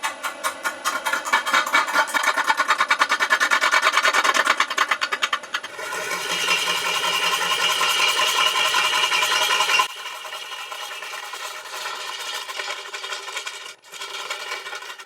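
A wood lathe spins an out-of-balance walnut crotch bowl blank, making a fast, rattling mechanical chatter that changes character as the speed shifts, then settles into a steadier hum.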